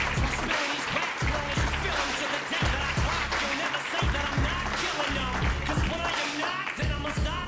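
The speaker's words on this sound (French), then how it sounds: "je vous demande d'applaudir et d'accueillir" An audience at a real estate federation's general assembly applauds to welcome an honored guest, a dense, sustained wash of clapping that carries on under a presenter's voice.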